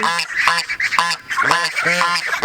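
Geese with goslings at a farm pond honk repeatedly in loud, close, overlapping calls, several birds sounding in quick rhythmic succession.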